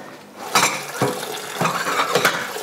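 Pots clatter and dishes clink in a home kitchen sink over steady running tap water, with several close knocks spread through the clip.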